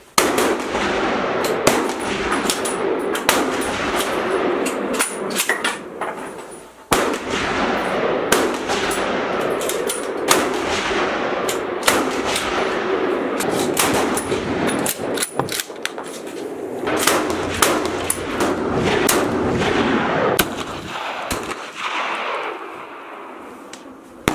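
Rifles fire in a shooting practice on a polar bear cruise in Spitsbergen, Svalbard: a steady run of sharp, loud reports over about 24 seconds against constant wind-like background noise.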